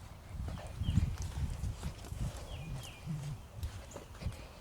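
A horse led on a lead rope walks at a steady pace, its hooves clopping softly and irregularly at a moderate distance under faint background noise, with occasional bird chirps.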